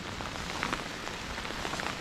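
Heavy rain pours steadily onto a remote campsite during a storm, a dense continuous hiss with scattered louder drops pattering nearby, no voices.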